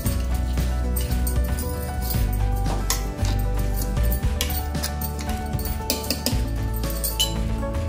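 A spoon stirs ginger powder into a herbal lehyam mixture, giving repeated metallic clinks and scrapes against the vessel over a steady tonal background, close and fairly loud with no talking.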